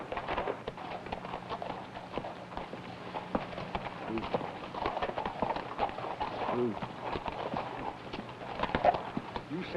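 A horse's hooves clip-clop steadily at a walking pace on hard ground, fairly close, with faint outdoor background noise and no talking.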